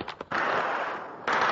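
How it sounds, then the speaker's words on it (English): Explosions and gunfire during unrest in Homs, Syria: two quick sharp pops followed by a sustained loud rattle of rapid fire that briefly dips before surging again. "Explosions and gunfire rocked the western city of Homs"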